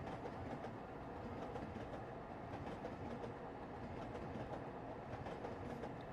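Train in the video game Eden Crafters rushing through without stopping, a steady, loud rumbling roll with clickety-clack rail rhythm throughout.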